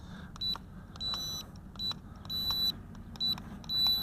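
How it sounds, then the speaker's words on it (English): A series of short, high electronic beeps from an FQ777 951-C mini drone during calibration, about six in irregular succession, over a low steady hum. "you hear a beep when it's calibrated"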